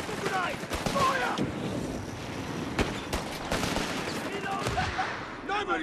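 Soldiers firing weapons in Company of Heroes 3 combat, dense bursts of gunfire and sharp shots with heavier booms, loud and continuous, with voices shouting under the battle noise.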